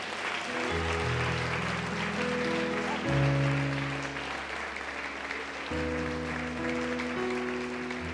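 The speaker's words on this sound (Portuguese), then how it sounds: "Dá uma salva de palmas para o Senhor." Church congregation clapping during a worship service, a continuous wash of applause heard beneath sustained organ or keyboard chords that shift in steps.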